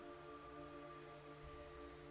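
Steady rain falling in the Metal Gear Solid 3: Snake Eater video game, a continuous even hiss over low tonal background hum, with no talk.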